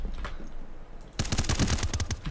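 In a video game firefight from Zero Hour, a quiet stretch with faint sounds gives way to a loud burst of rapid automatic gunfire with several sharp cracks in quick succession.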